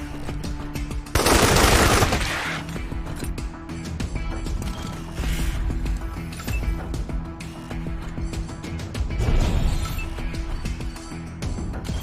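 Gunfire in Wasteland 3, with a loud opening burst of shots followed by further bursts and rattling impacts over a busy background, another heavy volley near the end.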